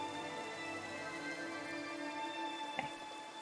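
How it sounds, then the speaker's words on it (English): Light rain falls outdoors in Ireland as a soft, steady patter, with a brief sharper knock near the end and no talking. "the rain stops as soon as we've finished walking in it"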